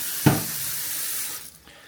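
Tap water runs into a pan of lentils in a home kitchen, starting with a sharp splash and then a steady rush that cuts off near the end, close and alone.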